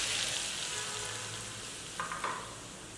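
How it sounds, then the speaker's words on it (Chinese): Hot oil is poured over chili oil seasoning with beef sauce and ground Sichuan pepper in a bowl, giving a steady, soft hiss. Two short bursts of crackling sizzle come near the end, and no one is talking. "淋入一点热油，给它爆香一下"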